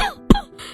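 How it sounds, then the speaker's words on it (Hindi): A man coughs suddenly after eating spicy food, a single sharp, loud hacking burst at close range. "अचानक खांसने लगता है"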